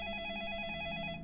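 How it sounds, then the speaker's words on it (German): A telephone rings in the video game Deadly Premonition, a soft, steady electronic bell tone that sounds continuously for just over a second with no talk over it. "Und ein Telefon klingelt."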